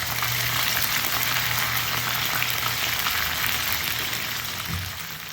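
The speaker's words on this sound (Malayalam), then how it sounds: "ഒരു മീഡിയം ഫ്ലെയിമിലിട്ടിട്ട് ഒരു 10-15 മിനിറ്റ് ചിക്കൻ ഒന്ന് ഫ്രൈ ചെയ്തെടുക്കുക" Chicken pieces frying in hot oil over a medium flame give a steady, close hiss and crackle that runs on evenly, easing off slightly near the end.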